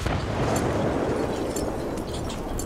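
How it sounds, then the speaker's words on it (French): A grenade going off in a multiplayer shooter video game, heard as a sustained, muffled rumbling blast that fills the whole moment at moderate level without a sharp onset. "Ouh putain, une grenade."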